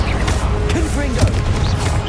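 Confringo fire spell blast in Hogwarts Legacy, a loud booming impact with crackling burst amid game combat effects and a voice shouting spell names.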